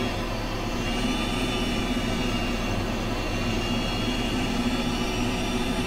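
A Learjet 24B jet engine in a flight simulator taxis out onto the runway to backtrack, with a steady, loud, unbroken whine and roar that holds level throughout with no other sounds.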